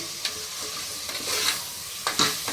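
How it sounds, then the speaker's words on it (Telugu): Mutton kheema sizzles in a pan as turmeric is stirred in, with a steady fry hiss broken by several scraping spoon strokes, close and fairly loud, and no one speaks. "పసుపు వేసి మొత్తం ఇలా కలిపేసుకోండి ఒకసారి."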